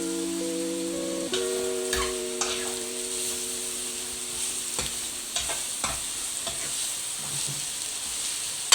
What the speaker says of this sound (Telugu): క్యాబేజ్ ఫ్రై అయితే అయిపోయింది. ఇంకొంచెం కలుపుకోవాలి, ఇంకొంచెం వేగాలి.